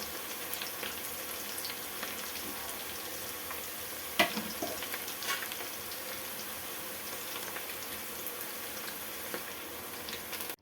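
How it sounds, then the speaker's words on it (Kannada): Onions frying in oil for a vegetable pulao, a steady soft sizzle that runs throughout with a few brief scraping stirs near the middle, no talking. "ಈ ಥರ ಬ್ರೌನಿಷ್ ಕಲರ್ ಬರೋ ತನಕನೂ ಅಷ್ಟೇ ಈರುಳ್ಳಿನ ನೀಟಾಗಿ ಫ್ರೈ ಮಾಡಬೇಕು."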